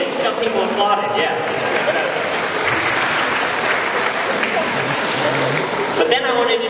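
Audience applause for a stage magic show's rope trick, a steady wash of many hands clapping close by for several seconds, with a few voices mixed in.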